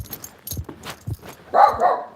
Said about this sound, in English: She has to look at me and bark.